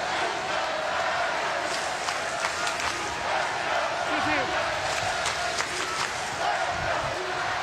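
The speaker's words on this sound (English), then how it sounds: "The LSU fans in the outfield, especially right, all standing and cheering" LSU baseball fans in the outfield at the College World Series stand and cheer, a dense, continuous crowd roar with shouts rising throughout.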